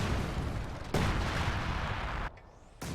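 Artillery barrage pounding a mortar emplacement in Company of Heroes 2, a dense roar of overlapping blasts and rumbling impacts that swells, holds, then drops briefly before another burst.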